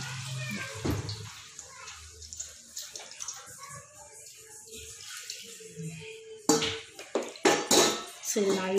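Water poured into a pot of chicken gravy in a home kitchen, a splashing, trickling pour heard in bursts between quieter stretches, with a voice talking in the background.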